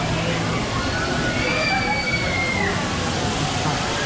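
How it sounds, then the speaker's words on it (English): A large water bucket splashing on the deck of the cruise ship Oasis of the Seas, a loud continuous sloshing rush of water with crowd chatter underneath. "Look at that water bucket."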